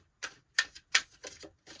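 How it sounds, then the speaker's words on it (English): Tarot cards being shuffled by hand up close: five crisp, papery bursts come at an even pace, each a quick flutter of cards, with short silences between. "I'm going to do one more shuffle here"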